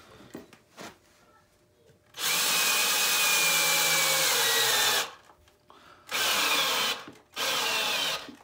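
Power drill driving screws into a wooden greenwood carving bench, with three loud sustained whirring bursts, the longest near three seconds, separated by short pauses and light handling knocks.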